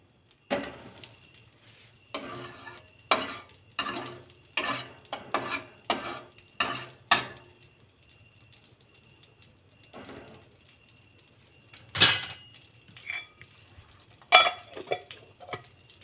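Butter melting in a pot on a lit stove, heard as a run of short scraping, tapping stirs against the pan with quiet gaps between them, close and fairly faint with no talking.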